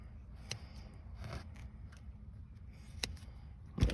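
Scissors cut through an adhesive label during an IVMS F-series installation, giving a few faint, quiet snips spaced apart over low room noise.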